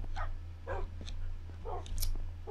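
Dogs in the Minecraft video game bark and yip repeatedly, several short, close, moderately loud calls over a low steady background hum.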